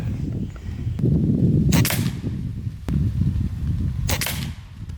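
A JTS Brawn bullpup PCP air rifle fires two sharp, loud shots about two and a half seconds apart, each a short crisp crack, with a quieter low rumble and faint clicks between them.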